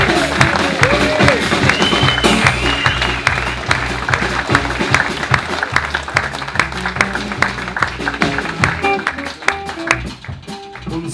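Audience clapping and cheering at a blues band gig fill the room for a percussionist introduced as being from Milan, Italy, mixed with band instruments, loud bursts of crowd noise, and a voice speaking over it.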